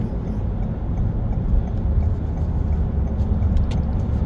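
Steady low road rumble of a car climbing a hill on the Free Bridge, with engine and tire noise holding even and loud throughout, no voices.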